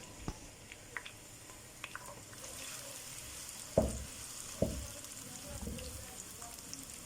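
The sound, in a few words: onions frying in hot oil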